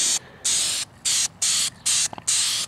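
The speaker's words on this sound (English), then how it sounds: "You should only spray on, your first coat should be a tack coat" An aerosol can lays a light tack coat of paint on a Honda Dio 120cc stroker engine part. Six close, steady hissing bursts, each about a third of a second long, are separated by short silent gaps.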